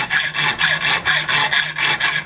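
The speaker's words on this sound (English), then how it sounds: "Now I'm going to deliberately cut this in a bad way." A hacksaw cuts through threaded steel rod (studding) with a deliberately poor technique, giving a loud, close rasping stroke repeated rhythmically, about eight back-and-forth strokes in quick succession.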